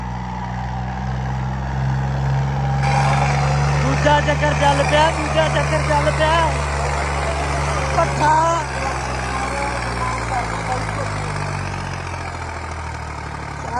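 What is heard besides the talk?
Swaraj 855 tractor engine running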